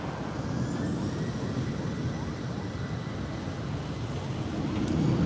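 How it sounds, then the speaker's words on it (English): A TAP Air Portugal Airbus A320 moves into position for takeoff at Lisbon airport, making a steady broad engine rumble that holds even and swells slightly near the end. "We have an A320 by TAP Air Portugal taking position for takeoff"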